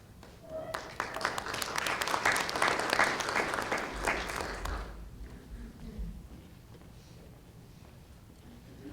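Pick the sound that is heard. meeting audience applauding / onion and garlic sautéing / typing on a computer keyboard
meeting audience applauding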